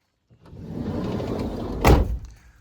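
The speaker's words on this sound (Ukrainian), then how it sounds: "Дверки легесенько закриваються." A 2013 Renault Trafic 2.0 passenger van, long version, has its door rolled along and shut, with a steady rumbling slide ending in one solid, close thunk, no voices.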